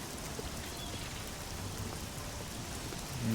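Steady rain pours down in the fantasy video game Oblivion, a dense, even hiss of falling drops that stays constant throughout with no voices.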